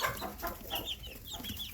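Young mixed-breed chicks about two and a half weeks old cluck and peep in a brooding area inside a coop, a close, busy run of short overlapping calls.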